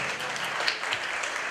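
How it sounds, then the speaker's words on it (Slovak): Wedding guests applaud the newlyweds with dense, steady clapping from a crowded room, moderately loud and continuous for the whole short stretch. "poprosím naozaj veľký potlesk pre mladomáželov"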